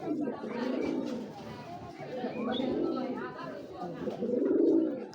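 A pair of Sapchila high-flyer pigeons cooing nearby in low, throaty, rolling phrases that swell and fade in several waves, with a voice speaking alongside.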